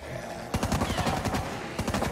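Rapid automatic AK rifle fire in the zombie shooter game Zombieland Double Tap, a fast steady stream of punchy shots running almost continuously with a brief gap before a final burst.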